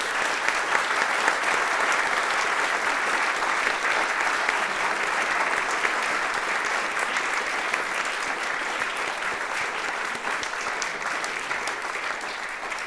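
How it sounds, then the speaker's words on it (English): An audience at a candidates' forum applauds steadily and loudly, dense clapping sustained without a break from start to finish. "So let's applaud to all the candidates"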